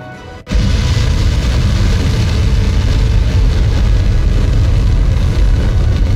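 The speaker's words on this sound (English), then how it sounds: "That's a big old rocket." Rocket launch in Kerbal Space Program 2: after a brief quiet moment, a loud sustained roaring rumble bursts in and holds steady to the end, with no voices.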